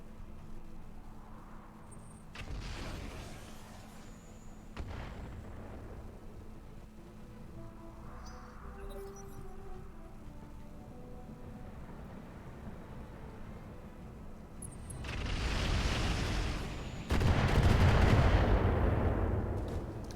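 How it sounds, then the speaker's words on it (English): Anti-missile system bursts from a mech in the BattleTech RogueTech video game: brief loud bursts near 2.5 and 5 seconds, then heavier rattling fire from about 15 seconds to the end, over a low steady hum. "Oh no, it was my AMS firing off."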